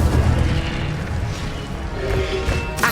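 A fire spell cast during combat in Hogwarts Legacy, a loud booming burst followed by crackling, rumbling flames amid the noise of battle.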